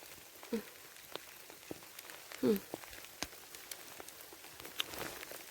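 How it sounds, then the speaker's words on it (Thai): Light rain patters faintly outdoors with scattered drips and taps, and a couple of brief voice sounds cut through. "ฝนตก"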